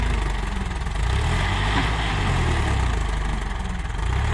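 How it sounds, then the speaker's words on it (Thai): A Ford 7740 four-cylinder tractor engine runs steadily at a low, throbbing idle, close and loud with constant vibration and no voices. "นี่เป็นเครื่องขนาดสี่สูบนะครับ ยังแรงเลยครับ คนก็แรงรถก็แรงครับ"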